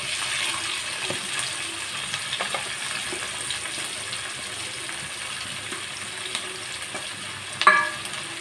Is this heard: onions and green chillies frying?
yes